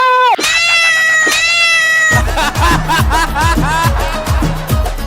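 A cat gives two loud, drawn-out meows close by in a comedy skit, followed by a busier stretch of overlapping voiced sounds and further meow-like cries.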